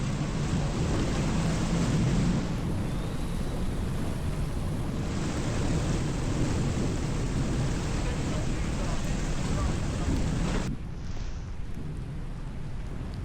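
Heavy Florida rain hisses steadily with deep rumbling thunder beneath it at a boat ramp, the downpour continuous and loud throughout, briefly thinning near the end.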